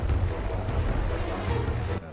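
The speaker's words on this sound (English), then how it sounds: "Keep bombing my aircraft carriers." Dense, continuous rumble of bombs bursting against aircraft carriers in the naval strategy game Task Force Admiral, heavy low booms overlapping without pause before cutting off near the end.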